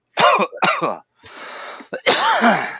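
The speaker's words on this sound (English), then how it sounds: "Oh, yeah, it made me cough." Harsh, close coughing after smoking a joint: two quick barking coughs, a rasping throat-clearing exhale, then another hacking cough fit, loud and alone with no talk.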